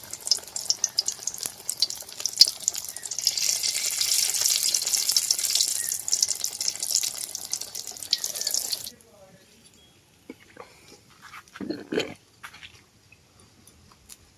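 Besan-coated soybean chops sizzle and hiss steadily in hot oil for about nine seconds, loud and close, before the frying cuts out and a few faint clinks and brief handling sounds follow in near silence.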